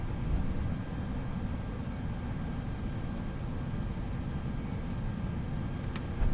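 An Airbus A320 in the FSLabs flight simulator decelerates on the runway after landing, giving a steady low rumble of rolling and braking noise that holds evenly throughout, with a brief click near the end.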